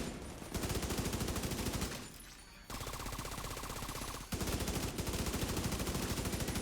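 Carbine 7 rifle fire in The Division 2, rapid automatic bursts with an even, fast rhythm, loud and close, separated by brief pauses between strings of shots.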